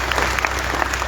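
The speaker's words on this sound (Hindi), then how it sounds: "आप थोड़ी सी तालियां बजाने में कंजूसी कर रहे हैं। एक बार जरा बजा दीजिए" Audience applause at a Hindi kavi sammelan poetry gathering on a Ramlila ground, staged by a municipal council in Neem ka Thana: a dense, steady wash of many hands clapping close by, holding at an even level throughout.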